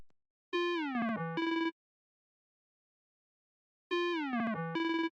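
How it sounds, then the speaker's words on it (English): Synth lead one-shot, a phrase of close notes with a portamento slide, plays twice with a long silence between, clean and bright with no voices. "the final sound of this melody is this lead one shot"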